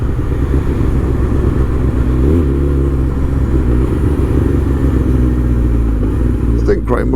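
A supercharged Kawasaki ZZR1400 motorcycle rumbles loud and close while riding, engine note droning under wind buffeting, with brief pops on overrun as revs drop; a rider speaks over it.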